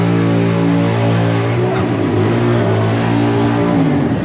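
A car engine revs loud and steady at close range at the Hoonigan Burnyard during SEMA 2022, a continuous throaty roar filling the whole moment.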